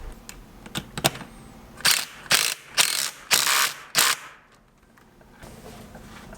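A ratchet tightens a bolt during a Puch E50 moped engine rebuild, giving several sharp close clicking bursts in a quick rhythm, then falling quiet.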